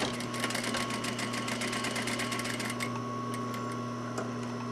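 A sewing machine runs steadily, stitching a folded fabric piece for a decorative bow, with a fast even needle rhythm that pauses briefly near the end before resuming with lighter ticking.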